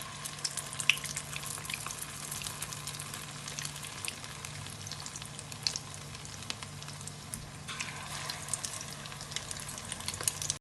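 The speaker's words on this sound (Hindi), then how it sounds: "मीडियम फ्लेम पे हमने इन्हें फ्राई करना" Kababs frying in oil over a medium flame, an even, continuous close sizzle with fine crackles and small pops throughout and no voices.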